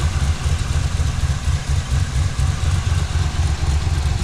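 LS-swapped Ford LTD idling on a freshly installed exhaust, a deep, loping low rumble with a steady pulsing rhythm, close and loud, with no talking.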